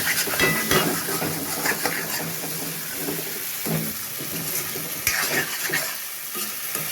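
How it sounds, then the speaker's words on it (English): Spices roasting over high flame in a pan for Indian masala baingan, with a steady loud sizzle and scraping stir strokes throughout, plus occasional clinks of a utensil against the pan. "Why we need to roast like this little on high flame?"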